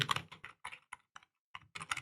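A computer keyboard is being typed on to enter a file name, making crisp, close key clicks in uneven bursts with a short pause in the middle.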